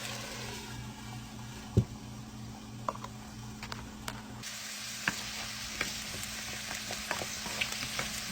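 Potatoes sizzling and frying in a pan for green beans and potatoes, a steady close hiss with occasional sharp pops and stirring clicks, no talking.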